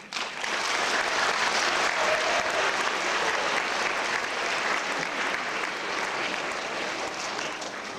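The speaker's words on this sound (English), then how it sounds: "give them another round of applause" Audience clapping at a school D.A.R.E. graduation ceremony, a sustained dense wash of applause from a large crowd lasting several seconds with no break.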